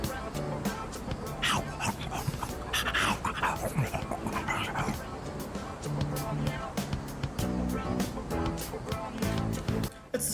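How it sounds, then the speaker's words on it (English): A stray dog in the Persona 3 video game whimpers and pants, small soft yelps and breaths mixed into a busy layer of game music and effects, with a voice talking over it. "It's the stray dog that chased that boy around a little while ago. Looks like he's in bad shape."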